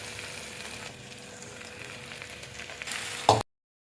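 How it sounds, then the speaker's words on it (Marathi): Marinated mutton sizzles and fries steadily in a hot pan, a close, continuous crackle with light stirring that swells briefly near the end. "तर आता मटण टाकले मी आणि आता हे चांगलं परतून घेते 2 मिनिटं."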